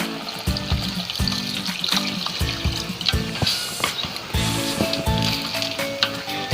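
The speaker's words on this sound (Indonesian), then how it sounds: "Lalu di sini kita tambahkan air 300 ml." 300 ml of water poured into a cooking pot for an agar and black sticky rice dessert: a close, continuous splashing and gurgling stream with a few clinks, moderately loud and with no speech.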